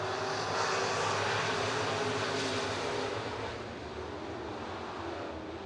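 Late model street stock race cars roar together at I-90 Speedway, a loud sustained engine drone from the pack that eases slightly toward the end, with no talking.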